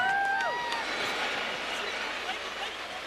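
An arena football crowd at a 2000 Grand Rapids Rampage vs. Milwaukee Mustangs game roars steadily during a kick return, with high whistle tones cutting through at the start.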